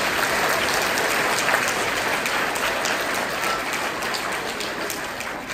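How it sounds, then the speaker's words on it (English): An audience at a school Veterans Day program applauds, a dense, steady wash of clapping that holds at an even level throughout with no talking. "Let's give them a round of applause."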